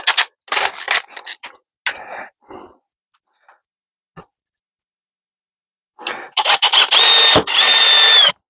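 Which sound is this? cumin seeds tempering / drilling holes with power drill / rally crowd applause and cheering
drilling holes with power drill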